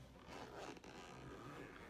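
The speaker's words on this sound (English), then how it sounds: "Zips nice." The fabric case of a GoPro Hero 9 camera being zipped, one quiet, close, continuous rasping zip lasting under two seconds, alone without speech.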